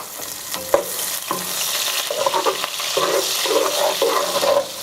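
Onions frying in oil in a pan, a close, steady sizzle broken by clinking and scraping stir strokes throughout, no talking.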